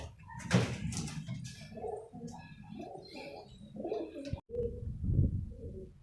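Pigeons coo repeatedly in low, throaty bursts, close by, with a brief knock partway through.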